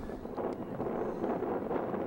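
Wind buffets a microphone at an outdoor youth soccer match in Las Vegas, a low, steady rumbling roar with no clear voices.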